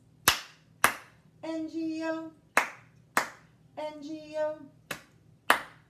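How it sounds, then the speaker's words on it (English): Two sharp hand claps in a children's Bingo song, repeated in pairs and alternating with sung letters, close and crisp against a quiet room. "Two claps."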